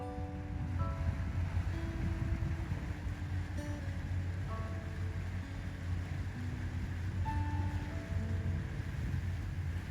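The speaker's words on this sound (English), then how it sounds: "We just love the sound of the engine as we head off on a great adventure." Steady low drone of a boat engine pulling out of a harbor in Alaska, with wind and water noise layered over it and no talking, continuous and moderately loud throughout.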